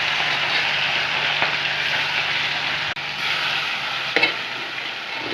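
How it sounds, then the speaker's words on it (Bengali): Pieces of fish fry in hot oil in a pan, a loud, steady, close sizzle with a couple of faint knocks partway through. "মাছটা ভাজা হোক।"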